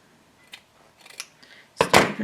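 Scissors snip through folded quilt fabric strips, a few faint light cuts followed by two louder, crisp closing snips close by.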